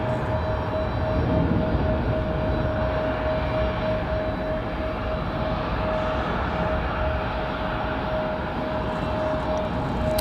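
Steady, loud roar of an airliner taking off from a runway at Raleigh-Durham International Airport, a continuous broadband rumble with a faint steady tone, heard alone without talk.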